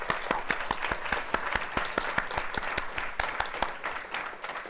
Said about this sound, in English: if we can give him a huge round of applause.